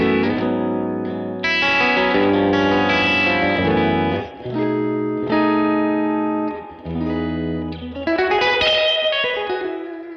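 An electric guitar plays chords and ringing notes through a Boss RV-200 pedal's wet, drippy spring reverb, with a warm, shimmering echo trailing after each strum.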